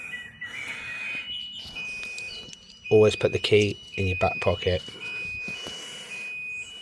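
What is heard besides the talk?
battery-powered alarm sounder going off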